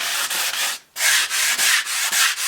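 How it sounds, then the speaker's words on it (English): Steady back-and-forth scrubbing of a torn truck seat with cleaner, close and loud, in rhythmic strokes with one brief pause near the start. "you keep scrubbing"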